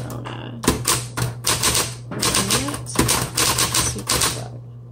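Typing on a 1970s Smith Corona Coronet Coronomatic Super 12 electric typewriter under a steady electric motor hum, with quick, uneven key strikes close by.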